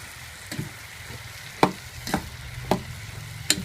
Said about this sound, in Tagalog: So, hahaluin lang natin.